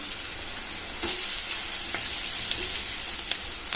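Chopped onions frying in oil for a potato curry, a steady crackling sizzle with spatula stirring scrapes and taps across the pan, close and continuous with no talking.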